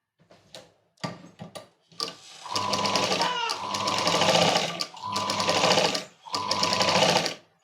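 Sewing machine stitching a princess cut blouse, opening with a few short taps and then running in several close, steady bursts of rapid stitching separated by brief pauses.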